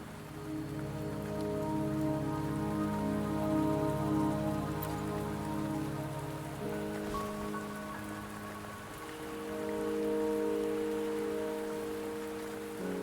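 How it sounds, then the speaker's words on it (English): Steady rain pours in the video game Wuthering Waves, a soft continuous patter on surfaces under a low, sustained tonal music bed, with no voices. "Don't worry, the rain won't last much longer."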